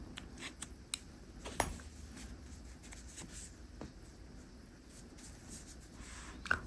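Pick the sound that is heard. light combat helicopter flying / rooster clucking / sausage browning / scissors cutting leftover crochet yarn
scissors cutting leftover crochet yarn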